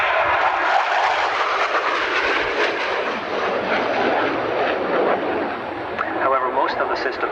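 A military jet at an airshow roars loudly and continuously, its engine noise swelling and fading slightly as it passes, with a voice faintly audible near the end.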